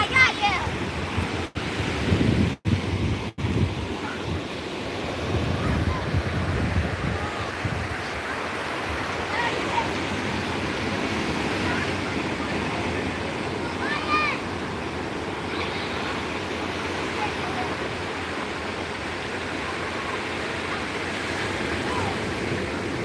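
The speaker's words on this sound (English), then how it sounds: "But we can have a walk with the" Ocean surf rolls onto the shore near San Pedro, California on a foggy day, a broad continuous wash with some wind noise across the microphone, opened by a few sharp knocks.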